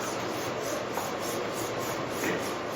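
Body filler spread thinly over a car panel with an applicator, a steady soft scraping and rubbing that runs unbroken and close, with no voices.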